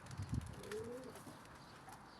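Pigeons cooing in a loft, soft low throaty coos with a brief flutter, heard at moderate distance over a faint outdoor background.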